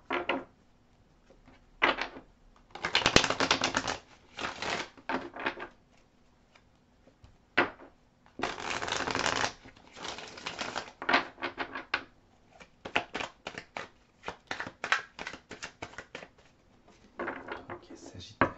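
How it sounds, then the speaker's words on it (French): A tarot deck is shuffled by hand in repeated bursts of riffling and cards slapping together, close and crisp, separated by short pauses. "Et donc là, je vais brasser votre jeu. Et après, je brasserai celui du partenaire."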